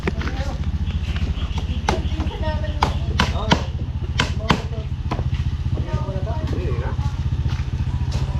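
A motorcycle engine idles and revs with a steady low rumble throughout, while people talk over it and a few sharp knocks ring out.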